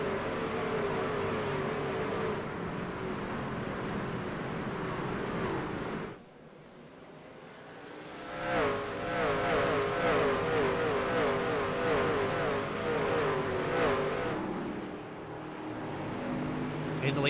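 Stock cars in a sim racing game at Myrtle Beach take a green-flag restart, engines droning loudly and steadily, with a brief dip before they rise again as a commentator talks over them.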